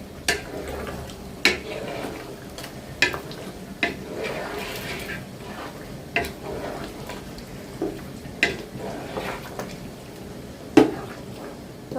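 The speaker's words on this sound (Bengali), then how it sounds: "মাংসটা কষানো হচ্ছে, কষানোর মধ্যেই সিদ্ধ হয়ে যাবে।" A spoon scrapes and knocks against a pot as tehari meat is stirred and braised, sharp clacks recurring every second or two over a low bubbling simmer, close by.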